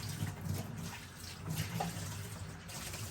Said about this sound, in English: We'll double check by rinsing it out,